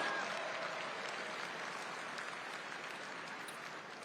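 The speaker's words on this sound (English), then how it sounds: "Round of applause." Audience applause at an NRCC political dinner in Washington, D.C., a dense, steady wash of many hands clapping in a large room, sustained and fairly distant throughout with no speech.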